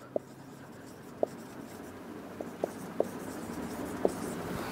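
Marker or chalk writing on a board during an electrical engineering lecture, heard as sparse, sharp taps and short strokes at irregular intervals over a faint room hum, with no talking.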